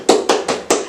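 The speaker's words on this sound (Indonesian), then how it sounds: "Tepuk tangan buat kita semua." Four sharp, evenly spaced claps in about a second, close and loud, given as applause for everyone in a Year 4 primary classroom lesson, with no voices over them.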